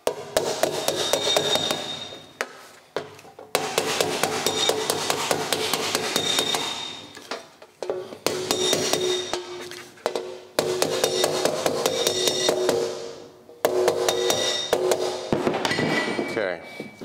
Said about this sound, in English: I'm going to use the same hammer again and just work those little wrinkles around that impact zone down